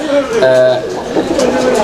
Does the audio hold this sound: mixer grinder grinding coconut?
no